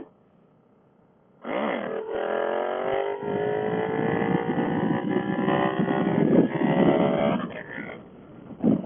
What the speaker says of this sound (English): This thing does some fun clutch wheelies.